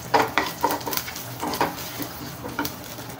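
Dry red chillies and spices, including mustard seeds, fenugreek, fennel and asafoetida, sizzle in hot oil for sambar while a spoon stirs and scrapes the pan in a close, uneven clatter.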